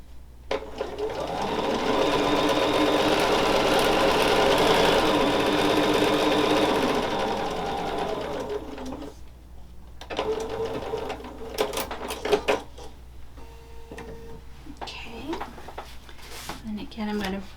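A sewing machine stitches a quilt block seam, running in a steady loud whir for several seconds, then stopping and restarting in shorter bursts, with a person talking faintly in the background.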